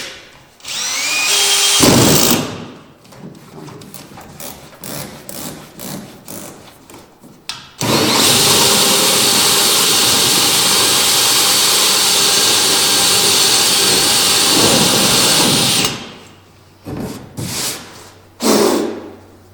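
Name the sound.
drilling into tank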